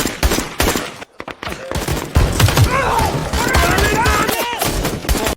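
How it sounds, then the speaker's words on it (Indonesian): Rapid bursts of gunfire crackle back and forth, volleys of shots overlapping with a brief lull near the start, loud and close. "Adu tembak pun tak terhindarkan."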